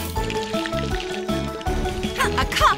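Fresh water is poured into a cup, making a bubbling, rising fill sound with gurgles and drips over background music, close and moderately loud.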